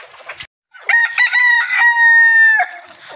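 A rooster on a golden misri hen farm crows loudly and close by, one long drawn-out call after a few short clucks from nearby chickens.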